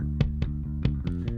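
A bass guitar played through a preamp and a Neural DSP Darkglass Ultimate plugin plucks five quick, punchy notes with sharp attacks in a short, close, loud phrase.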